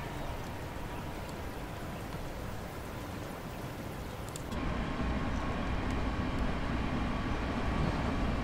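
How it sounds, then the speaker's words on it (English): An 8-car train runs in the Train Simulator game on the Ashford to London Blackfriars route. A steady rumbling rail drone swells noticeably louder about halfway through and then holds there. "Driving a 8-car train."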